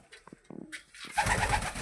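Pigeons, including a young black Madrasi pigeon just out of its loft, give a few soft, close coos, then a louder burst of flutter and rustling follows at the end.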